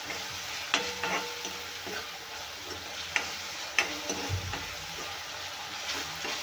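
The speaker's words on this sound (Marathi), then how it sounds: "आता घालूया आपण एक टोमॅटो बारीक चिरलेला तोही तेलामध्ये छानपैकी शिजवून घ्यायचा आपल्याला" Finely chopped tomato cooks in hot oil with mustard greens in a dry rai bhaji. A steady, soft sizzle is broken by occasional sharp clinks and scrapes of stirring.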